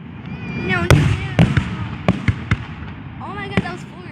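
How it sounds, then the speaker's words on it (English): Fourth of July fireworks show, with several sharp, loud bangs spaced irregularly through the clip over steady crowd chatter and excited voices. "Holy crap, that's a lot of fireworks."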